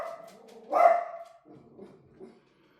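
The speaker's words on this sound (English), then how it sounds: "Excuse my dog." A pet dog lets out one sharp, close bark amid soft whining and yips, followed by a few quieter whimpers before falling silent. No one speaks during the sounds.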